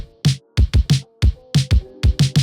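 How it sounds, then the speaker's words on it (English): An isolated kick and snare drum pattern opens a new wave post-punk beat, with about a dozen loud, punchy hits in a quick, uneven rhythm and no other sounds. "just isolate the kick and the snare and make it play for like 1 or 2 bars like this"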